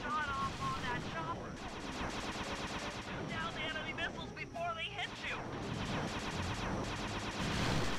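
Rapid, continuous gunfire from Sly 2: Band of Thieves rattles on for several seconds beneath game music and a player talking over it.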